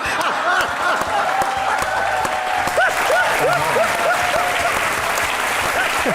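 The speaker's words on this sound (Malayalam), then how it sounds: "ഈ ചോദ്യത്തിന് ഞാൻ കൈയടിക്കുന്നുണ്ട്." Studio audience on a televised courtroom-style talk show applauding, a dense, sustained wash of clapping that stays loud and even from start to finish.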